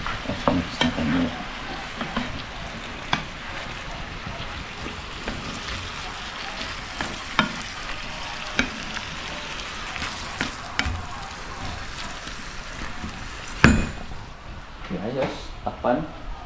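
Food frying in a pan is stirred, with a steady sizzle under repeated scraping and clicking strokes of a utensil, close and moderately loud, while a person talks intermittently.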